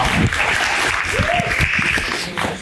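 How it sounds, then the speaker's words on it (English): Round of applause from an audience at an evening Ward 5 consent decree community meeting, steady clapping through the whole stretch with a few voices mixed in. "give yourselves a round of applause for coming out at 5:30 today."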